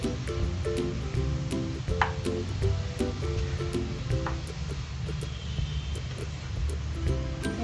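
Chopped potatoes and fenugreek leaves being mixed in a frying pan, a steady low sizzle with regular light scraping and tapping strokes of a spatula, close and even.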